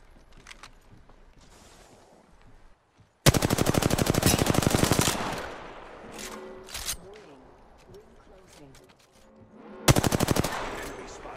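Alternator submachine gun bursts in Apex Legends: two long, loud rapid-fire volleys near the start and end, with quieter game noise and scattered clicks between them.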